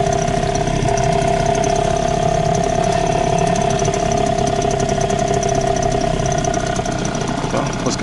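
A new Chinese outboard boat motor idles steadily through its break-in run, a continuous loud engine drone with a strong steady hum and faint rattling, no talking over it.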